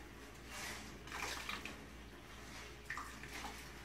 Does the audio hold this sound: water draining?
yes